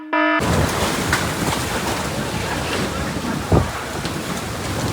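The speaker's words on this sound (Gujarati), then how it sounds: "ઠંડુ ઠંડુ જોરદાર વાતાવરણમાં જોરદાર વીજળી પડી રહી છે" Heavy rain pours steadily during a cool thunderstorm, with a brief low thunder rumble partway through.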